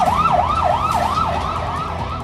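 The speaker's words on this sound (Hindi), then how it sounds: "युद्ध का सायरन बजने लगा है" A wailing war siren rises and falls in repeated sweeps, loud and steady throughout, with a low rumble of traffic underneath.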